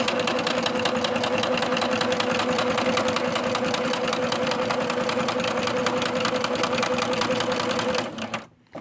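Sewing machine freshly oiled and cleaned, running steadily at speed with a rapid rhythmic mechanical whir close up for about eight seconds before slowing and stopping.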